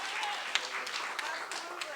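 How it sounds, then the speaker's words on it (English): An audience at a socialist party's congress plenary applauds, a soft, diffuse patter of many hands under a speaking voice. "let's give that a round of applause"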